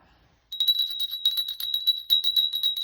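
A small bell rings steadily in quick, bright repeated strikes, close and clear after a brief moment of near silence.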